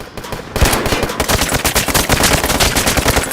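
Rapid automatic gunfire in the Roblox video game, a dense loud burst of shots in quick succession after a brief quieter start, continuing steadily throughout.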